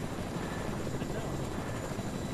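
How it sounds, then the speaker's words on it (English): Helicopter in Fortnite, a steady dense rotor and engine drone running unbroken and fairly loud, with players talking over it. "Did you just get out your helicopter?"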